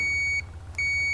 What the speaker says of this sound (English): when there's a complete circuit, you hear a beep